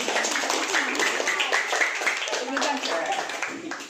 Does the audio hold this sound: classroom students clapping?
yes